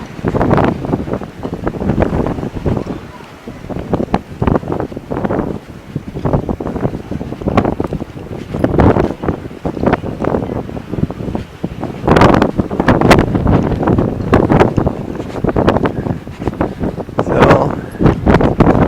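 Strong gusts buffet a microphone aboard a boat on San Francisco Bay, a loud, roaring rumble with uneven surges and crackling bursts that rise and fall throughout.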